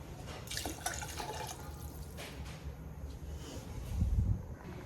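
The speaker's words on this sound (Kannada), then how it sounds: "3/4 ಪಾವು ರೈಸ್ ಇದೆ ಅಂದರೆ ಅದ್ರ 2ರಷ್ಟು ನಾವು ನೀರು ಹಾಕಬೇಕಾಗುತ್ತೆ" Water is poured into a pot of rice for peas pulao, a faint, continuous trickling and splashing that grows fuller and louder near the end.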